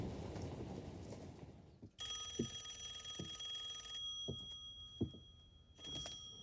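A telephone rings with a bright metallic bell tone in bursts, repeating over several seconds under a dramatic scene's quiet background, with soft thuds in between.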